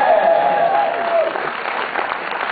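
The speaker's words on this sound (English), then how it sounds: "Let's give him a round of applause." An audience applauds a DJ, steady dense clapping from a crowd that holds at a fairly loud level throughout, with a voice briefly audible near the start.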